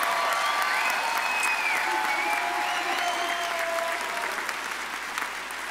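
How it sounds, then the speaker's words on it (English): Sustained applause from a large audience cheering graduates at a fall commencement ceremony, steady and dense clapping throughout with faint voices and whistles mixed in. "So one more round of applause for all of our grads."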